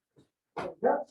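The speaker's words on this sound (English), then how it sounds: "That's our dog." A family dog barks twice close by, two short loud barks after a faint sound, with a person speaking briefly nearby in an indoor aikido training space.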